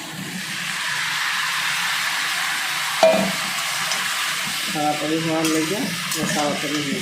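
Meat goes into an iron wok and is stirred, giving a continuous sizzle with scraping and clanking of a utensil against the metal, plus a sharp knock partway through.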